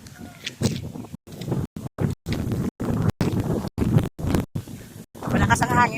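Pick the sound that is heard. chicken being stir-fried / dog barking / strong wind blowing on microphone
strong wind blowing on microphone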